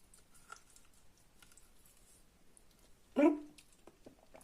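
A single close, fairly loud bite into cooked white asparagus at about three seconds, a short crunchy burst standing out against a quiet room with faint background noise.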